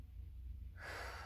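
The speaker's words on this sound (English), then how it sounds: "Pop it up, take a deep breath in." A single deep breath drawn in through the nose during a stretching session, close and soft, beginning as a low hiss and opening into a fuller airy inhale in the last half second.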